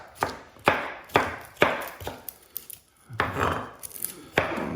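A knife chops onions on a board in sharp, close, evenly spaced strikes, roughly one every half second, with a short pause midway.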